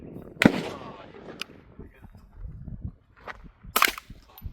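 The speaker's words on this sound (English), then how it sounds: "First shots out of this?" A 10/22 takedown short-barreled rifle built on a Piglet chassis fires its first few shots, sharp cracks spaced apart at close range, with low talk and movement between them.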